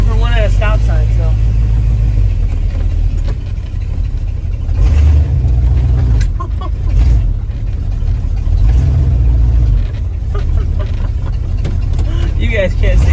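A Jeep CJ7 on its first drive after fuel system repairs, its engine rumbling loud and steady from inside the vehicle as it drives, with someone talking over it.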